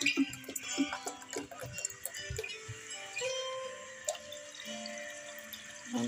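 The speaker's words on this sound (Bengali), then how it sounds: "পাস্তাটা বয়েল করে নেব, তার জন্য জল দিচ্ছি" Two mugs of water poured into a cooking pot for boiling pasta, a close, steady splashing stream with scattered clinks and ticks of the pot throughout.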